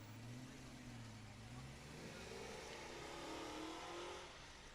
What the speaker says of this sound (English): it sounds like there's some good power behind that engine